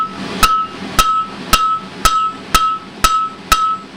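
Hammer striking hot metal on a hot cut hardy tool, seven sharp ringing blows at a steady rhythm about half a second apart, loud and close with a metallic ring after each strike.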